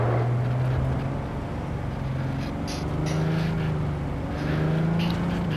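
A car engine in the Cyberpunk 2077 video game drones steadily, its pitch climbing and falling as the vehicle accelerates and shifts, loud and continuous with no voices.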